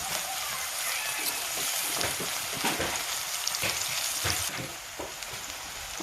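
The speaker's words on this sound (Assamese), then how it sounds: "মই ৰৈ যোৱা তেলখিনিতে পিঁয়াজখিনি দি দিছোঁ।" Onions and garlic frying in hot oil in a pan: a bright, steady sizzle with crackling pops and occasional stirring scrapes, close up, easing slightly toward the end.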